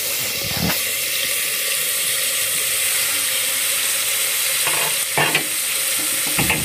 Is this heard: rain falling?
no